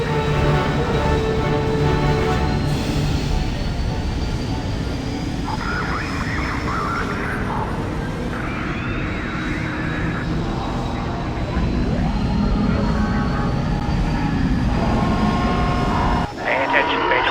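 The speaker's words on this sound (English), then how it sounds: "Craft departing." A TIE Fighter spacecraft departing in the Star Wars: TIE Fighter video game, a loud continuous engine roar with a thin whining tone sweeping over it, steady throughout before a brief dip near the end.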